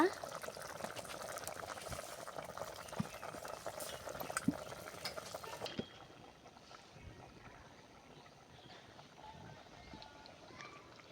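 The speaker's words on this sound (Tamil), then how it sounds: "பாருங்க இப்போ கொதிக்குது நல்லா" A pot of potato kurma curry bubbles and simmers, a soft continuous crackling boil close by, fairly faint and steady throughout.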